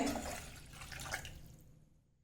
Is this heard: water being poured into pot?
yes